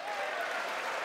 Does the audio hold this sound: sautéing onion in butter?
no